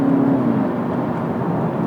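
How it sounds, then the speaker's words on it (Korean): Tuned engine sound inside a 2017 Kia K5 GT with 245 horsepower, its pitch meant to follow RPM, heard as a steady mid-pitched drone with a slight downward glide in tone, moderately loud with no speech. "이 RPM에 따라서 엔진음을 달리 들리게 하는 요 재미를"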